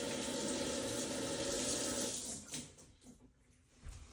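Tap water runs steadily over a squid being rinsed for cleaning after a catch, a close, continuous splashing stream that cuts off partway through and leaves a few soft drips and handling noises.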